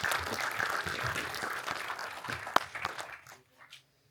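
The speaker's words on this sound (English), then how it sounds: "Another round of applause for our Sigma CEO, Mr. Kazuto Yamaki." Audience applause for the Sigma CEO at a lens launch event, steady clapping that fades out after about three seconds, with a few sharp louder claps near the end.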